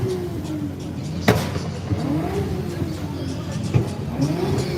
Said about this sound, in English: I think that guy just triggered an entire like rev battle right now